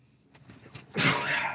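A short breathy intake followed by a sudden burst of a sneeze, close and loud, lasting about half a second.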